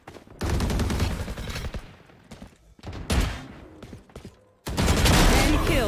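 Bursts of Valorant gunfire in a ranked match, loud rapid automatic volleys that stop and restart several times, with a voice speaking between the bursts.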